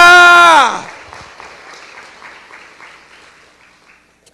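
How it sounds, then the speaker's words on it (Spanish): A church congregation at a Sunday morning service applauds right after a loud, drawn-out shout from a voice. The clapping is soft and scattered and gradually fades away. "Dale el aplauso más fuerte que le has dado al Señor en esta mañana."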